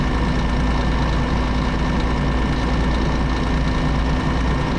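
A Scania R500 truck in Euro Truck Simulator 2, leaving São Borja with a BAU sider trailer, gives a steady, loud low diesel engine drone throughout, with no audible talking.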